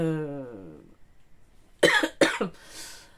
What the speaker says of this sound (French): Désolée, je tousse toujours.